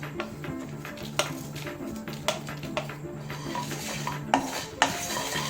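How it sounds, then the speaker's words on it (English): Whole spices (cumin, fennel, cloves, black pepper, coriander, star anise, cinnamon, dry red chilies) dry roasting in a pan, with faint crackles and pops under scraping and stirring of a utensil against the pan, close and fairly quiet. "You can hear the seeds start to pop."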